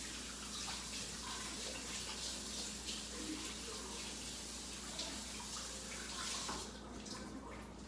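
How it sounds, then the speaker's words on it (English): Hands being washed under a running kitchen tap, a steady, close stream of water gushing into a sink throughout with small splashing variations and no talking. "Again, wash the hands."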